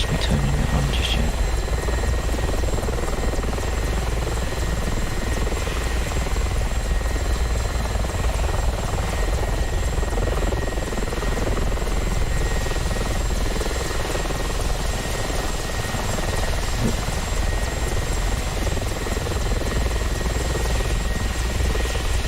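Helicopter flying in a flight simulator game, its rotor and engine giving a loud, steady, continuous drone with no break and no talking over it.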